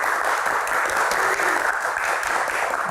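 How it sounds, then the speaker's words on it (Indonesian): A television talk-show studio audience claps, producing dense, steady applause that fills the room at an even level from start to finish with no voices over it. "Tepuk tangannya mana teman-teman?"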